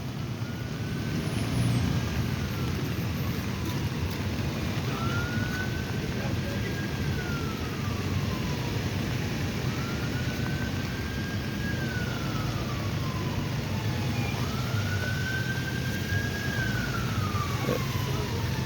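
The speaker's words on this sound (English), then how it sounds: "It's looking like a private ambulance just passing through." A private ambulance siren wails in long rising and falling sweeps as it passes through a Boston street, heard at moderate distance over a steady background of traffic and voices.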